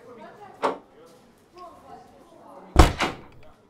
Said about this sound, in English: Could you shut that door behind me, please?